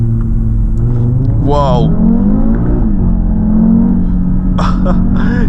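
An Audi TT RS engine revs while accelerating, its rising drone swelling briefly above a steady rumble. A voice exclaims over it, and talk continues on and off.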